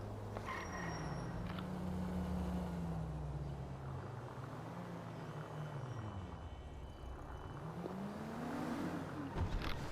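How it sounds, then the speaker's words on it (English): A car engine revs in Grand Theft Auto V, its droning pitch swelling and dipping in slow waves over a steady wash of road and ambient noise, with no one talking. "I do like its engine though."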